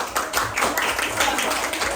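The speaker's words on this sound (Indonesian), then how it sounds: "Tepuk tangan untuk semua." A classroom of students claps for everyone together after a teacher's prompt; dense, steady clapping fills the whole moment at close range, with no break.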